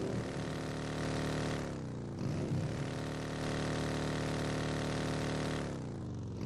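A vehicle engine drones steadily during a ride in PUBG Mobile, a loud, continuous hum with pitch that dips and rises as the vehicle slows and speeds up, with no talking.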